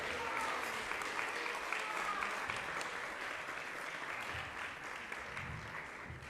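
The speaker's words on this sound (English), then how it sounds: "Please give a round of applause to His Holiness Kadamba Kanana Maharaj" Steady, faint applause from a large audience for His Holiness Kadamba Kanana Maharaj at an ISKCON New York fundraiser, a continuous even roar of clapping from a distance with no breaks.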